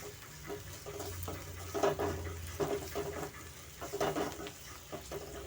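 Onions with turmeric and chili powder fry in oil in a pan for egg chapati fry, giving a steady soft sizzle broken by several louder scraping stirs, close by with no talk.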